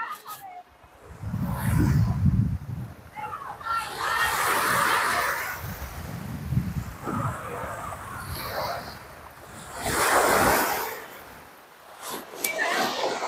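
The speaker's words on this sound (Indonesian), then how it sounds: "Deruan angin." Blustering wind sweeps across a black sand beach in Langkawi, roaring in rising and falling gusts with a broad rushing texture that swells loudly several times and never fully dies away.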